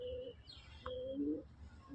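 Madrasi pigeons coo in a loft, soft low repeated calls close by, with a brief higher chirp among them.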